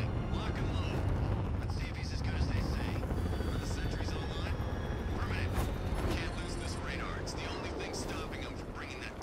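Serpent drones hover in the Batman: Arkham Knight video game, a steady rotor-like drone with mechanical whirring and game effects, loud and continuous under a voice.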